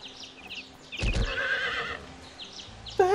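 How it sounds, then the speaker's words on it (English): A horse in the video game Way of the Samurai 4 gives a loud, close whinny lasting about a second, with hoof clip-clops and quieter game sounds around it, then a second call begins at the end. "What the hell is up with the horse noise?"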